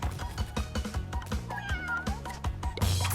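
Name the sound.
Purah the cat meowing in Crash Bandicoot Warped video game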